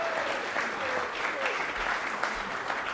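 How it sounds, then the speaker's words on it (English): A live audience at a 'Sconset local history night about Codfish Park claps steadily and evenly for the full stretch, a dense wash of many hands at moderate distance, with no talking over it. "So you can clap for me now."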